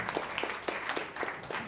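Audience applause at DogeCon 2024, a steady patter of many hands clapping at moderate distance, sustained through the whole moment without speech.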